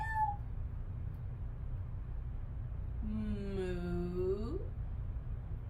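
A single drawn-out, rising-then-falling voice imitating a cat's meow, sung by a young voice over a low steady hum.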